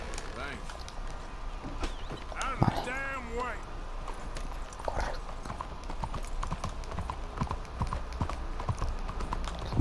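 Steady clip-clop of a horse's hooves in Red Dead Redemption 2 runs throughout at a moderate, even pace under continuous game sound and background noise, while a person talks over it.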